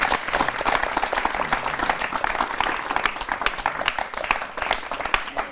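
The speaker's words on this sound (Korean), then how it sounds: "박수 한번 합시다" Church congregation applauding together, a dense steady wash of many hands clapping close by for several seconds without a break.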